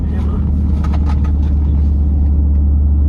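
Straight-piped 2007 Mustang GT V8 with stock headers and resonator delete, tuned on 91 with a JLT intake, idling loud and close with a deep steady low rumble and faint voices in the background.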